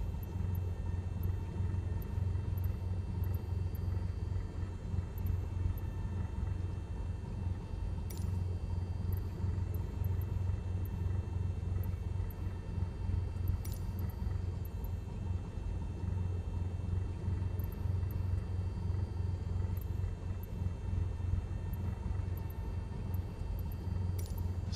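A Cessna's engine running at a St. Louis Lambert gate during pushback, a steady low droning rumble heard from inside, continuous and even with faint intermittent clicks.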